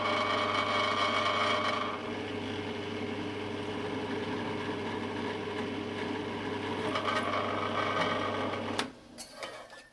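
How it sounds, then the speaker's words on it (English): Pillar drill boring a hole in a workpiece clamped in a vise, a steady loud motor hum with a whirring cutting tone that cuts off abruptly near the end, followed by brief clatter. "let's drill a hole in the end"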